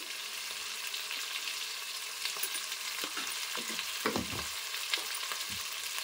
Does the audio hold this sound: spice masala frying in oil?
yes